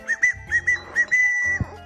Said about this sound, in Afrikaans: Hier het ons 'n fluit.